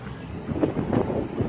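Strong wind outdoors beside a Kaufman Mini 5-car hauler buffeting the microphone with a low, rumbling roar that gusts and swells, no voices.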